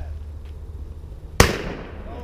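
A shotgun fires once at a skeet target during an outdoor brush shoot at a country club: one sharp, loud, close blast with a short decaying tail over a low, steady outdoor rumble.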